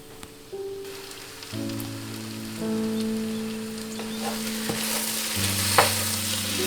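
A brinjal and tomato moju cooks and gets stirred in a pan, giving a gentle bubbling sizzle with scraping stirs and steady low tones in the background.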